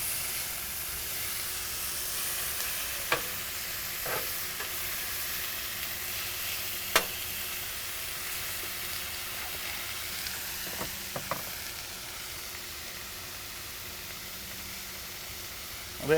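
Vegetables sauté slowly over low heat on a Pit Boss griddle, giving a faint, steady sizzle and hiss with a few sharp clicks and taps of a utensil spread through the clip.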